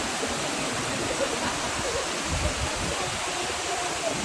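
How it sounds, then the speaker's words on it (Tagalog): Hulugan Falls waterfall roaring as a steady, dense wash of falling water up close, continuous and loud throughout with no clear talk over it. "nandito na kami sa harapan ng Hulugan Falls."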